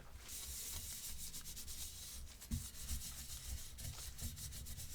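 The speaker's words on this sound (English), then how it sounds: "I just wipe everything off after with this microfiber cloth, and it removes that." A microfiber cloth wipes over a smoke- and dust-damaged PS4 Slim console, giving a soft, continuous rubbing swish with a few faint thumps, quiet and close, with no voices.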